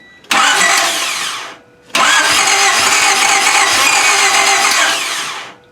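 A 1995 Honda Civic with a suspected fuel problem cranks twice: a short burst of whirring and sputtering, a brief pause, then a longer, loud cranking run that gradually fades.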